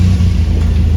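A Cosworth YB engine fitted in a Mk1 Escort runs cold, a loud, close, low-pitched drone that holds steady through one short burst.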